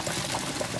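Water rushing and splashing steadily as blanched celery is strained, a continuous pouring wash of liquid at close range with no voices.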